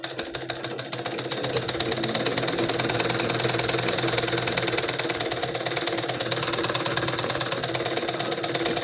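A sewing machine stitching a blouse, running in a fast, steady mechanical rattle, close and continuous for the whole stretch with no voices.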